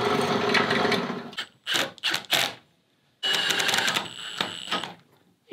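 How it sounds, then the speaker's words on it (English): A drill bores into forged steel in two separate bursts of loud mechanical whirring and grinding, with short rattling stops and pauses between them. "Shall I drill those two holes for you"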